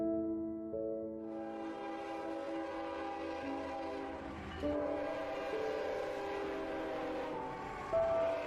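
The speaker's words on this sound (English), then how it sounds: "The train whistle is one of those that beckons us to faraway places." A train whistle sounds in long, sustained, multi-toned blasts that shift pitch and swell several times over a low background rumble, loud and carrying, with no talking.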